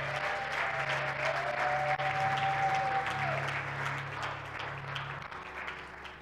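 Church congregation applauding and cheering during a French-language sermon, a dense steady wash of clapping with a sustained organ or keyboard tone underneath, fairly loud and continuous before easing slightly toward the end.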